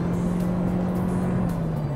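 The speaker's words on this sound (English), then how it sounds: "putting my foot hard into the throttle" A 2023 Toyota Prius hybrid under hard acceleration gives a steady, droning engine hum with a rising tone, heard from inside the cabin over constant road noise.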